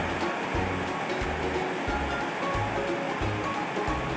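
Cilok dumplings boiling in a pot of water, a steady close bubbling roar with a low, regular pulsing throb running through it and no talk.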